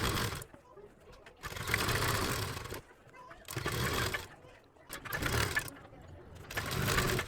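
Sewing machine stitching a double seam on a kurti sleeve, running in four bursts of rapid whirring separated by short pauses, with a voice talking over part of it.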